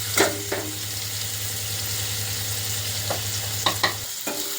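Paneer pieces roasting in a pan give a steady sizzle under a low hum, with a few sharp clinks and scrapes of a spatula against the pan.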